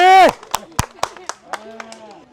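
Sparse, uneven hand claps ring out at a village football game, seven or eight sharp claps spaced irregularly and close by, just after a brief burst of a voice.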